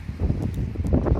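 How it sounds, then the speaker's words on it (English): Gusty wind buffeting the microphone outdoors on a metal-detecting dig in Norfolk, UK, a low rumbling roar that swells and dips throughout, with a faint rustle over it. "It's windy."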